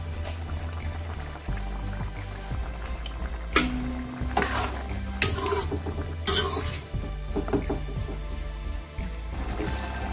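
A spoon stirs boiling rajma curry in a pot, with loud scraping and clanking strokes against the metal, several of them in bursts over a bubbling, simmering background.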